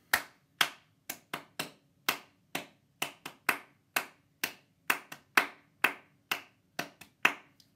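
Hand clapping repeats a short rhythmic pattern in a steady loop, about two dozen crisp claps with a noticeable classroom echo and no talking.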